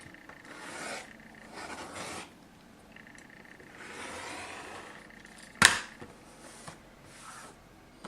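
A rotary cutter blade trims quilt fabric in several soft, raspy strokes, each lasting about a second, with a sharp click midway through, quiet and close.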